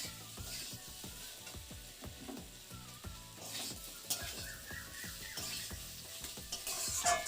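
Green tamarind with turmeric and cumin powder fries in a pan, sizzling steadily while a spatula stirs and scrapes in short repeated strokes, close and without speech.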